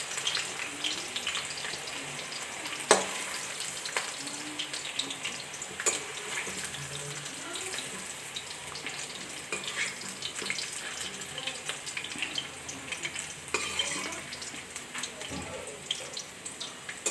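Fried potatoes go into a sizzling pan of home-made Bengali egg curry, a steady crackling hiss with a few sharp clatters and stirring knocks, close up and continuous.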